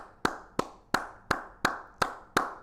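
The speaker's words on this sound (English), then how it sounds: "I'm gonna give you a clap." One person claps hands seven times in a slow, even rhythm, each clap sharp and close with a short room echo and nothing else around it.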